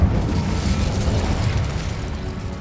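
A fiery blast from the Incendio spell in the Hogwarts Legacy video game, a loud, dense rumbling burst that stays heavy and steady for a couple of seconds before easing slightly.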